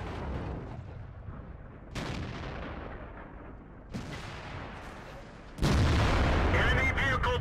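Tank cannon blasts in the World of Tanks video game, three heavy booms a couple of seconds apart with long decaying rumbles, the last one loudest and closest.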